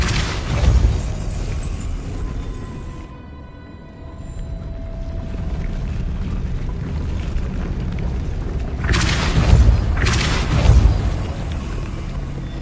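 Depulso spell impacts in Hogwarts Legacy, loud booming bursts with rumbling tails, one near the start and a cluster of heavy blasts toward the end, separated by quieter ambience.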